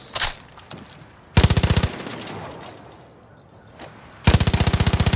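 Elite weapons fire in Far Cry New Dawn: two loud, rapid automatic bursts stand out, separated by quieter scattered shots and ambient game noise.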